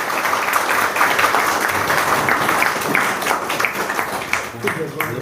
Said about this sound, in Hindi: हम सभी चाहेंगे तालियों की गड़गड़ाहट बनी रहे।